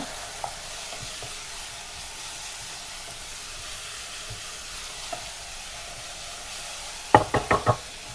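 Shallots sauté in a pan for a fish curry with a faint, steady sizzle, and a quick series of sharp knocks of a spoon against the pan sounds near the end.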